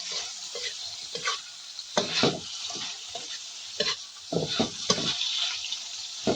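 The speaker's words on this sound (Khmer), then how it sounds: "ចឹងយើងចូលចិត្តក្រហមយើងលីងឲ្យក្រហមខ្លាំងទៅតែខ្ញុំលីងមកឆ្អិនបាន" Insect larvae fry in a pan with a little fat, stirred in irregular bursts of scraping and spattering over a quieter sizzle. The bursts cluster in short runs with gaps between them, close up, and no voice is heard.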